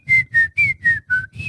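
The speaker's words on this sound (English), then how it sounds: "that was a really good whistle" Someone whistles a quick series of six short, clear notes in an even rhythm, close and loud with no talking.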